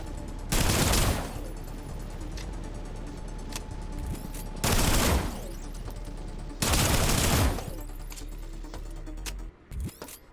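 Bursts of automatic gunfire in an online shooter game, three loud rapid volleys of a second or more each, separated by quieter stretches of game ambience and scattered single shots.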